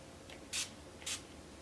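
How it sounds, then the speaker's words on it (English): Two quick hissing spray bursts about half a second apart, close and sharp, over a faint steady background hiss. "I'm going to spray my brush with some setting spray"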